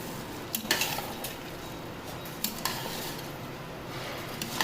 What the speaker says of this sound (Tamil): அரிசி சேர்த்து நல்லா கலந்தாச்சு